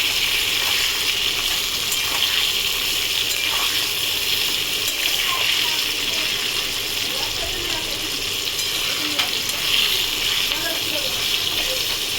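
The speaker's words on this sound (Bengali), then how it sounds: "পটলটা ভালো করে ভেজে নিই" Pointed gourd (potol) fries in a pan with a loud, dense, continuous hiss of hot oil that holds steady throughout, with faint crackles and no speech.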